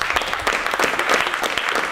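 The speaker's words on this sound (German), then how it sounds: "Kleiner Applaus, Max." A short burst of dense, steady applause from an audience welcomes a young boy named Max. The clapping stays even and close from start to finish.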